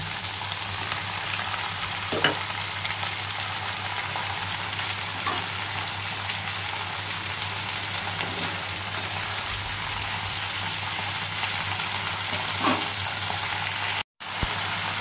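Ivy gourd with potato fries in a pan, giving a steady close hiss of sizzling oil with a few faint stirring scrapes and a brief cut near the end.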